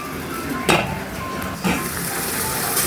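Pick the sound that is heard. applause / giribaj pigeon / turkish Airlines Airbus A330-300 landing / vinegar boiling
vinegar boiling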